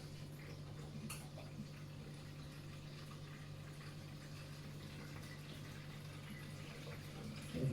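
Water is poured into a pan while cooking a fish pie, a faint, steady gurgling flow with a low hum underneath that stays level throughout.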